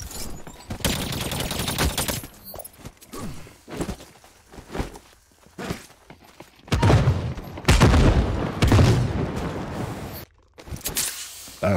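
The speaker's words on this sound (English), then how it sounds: "Oh, it's a shotgun." Gunfire in The Cycle: Frontier during a player-versus-player fight, rapid loud bursts and heavy shots with footsteps between, the densest volley late in the clip.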